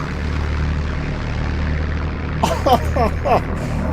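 Propeller engine of a P-51 Mustang in a flight simulator game drones steadily and loud, with a few short bursts of added engine noise near the end.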